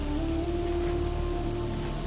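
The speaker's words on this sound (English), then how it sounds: "It's cool, it's all rainy." Rain falls in the shooter game Helldivers 2, a steady, even hiss of droplets with a low hum beneath, continuous and moderately loud throughout.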